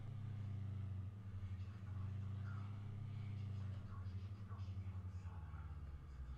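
In the Arma game, a car engine hums at a low, steady pitch while driving, fairly quiet and in the foreground, with a slight dip in pitch near the end as a voice talks over it.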